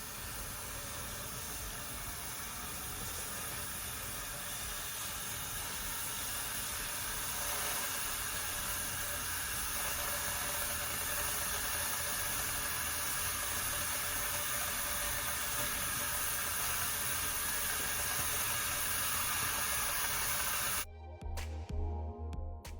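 A pot of dal simmering on a stovetop makes a steady, even hiss with a faint bubbling texture, continuous and unbroken for about twenty seconds before cutting off abruptly.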